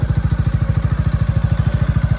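Honda Forza 250Z MF10 scooter engine idling close by, a steady rapid thumping putter with even pulses and a slight mechanical clatter, heard alone without talk.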